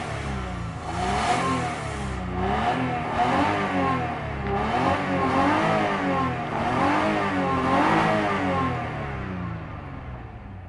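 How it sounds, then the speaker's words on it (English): A 2003 Toyota Avalon V6 engine runs steadily nearby, its pitch rising and falling repeatedly as it revs, with no talking. "V6, nice and smooth, don't even know it's running"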